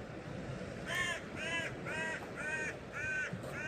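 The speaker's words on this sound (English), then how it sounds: "Couple of birds flying overhead." Crows flying overhead give a series of about six loud, evenly spaced harsh caws against quiet outdoor background noise, with no talk.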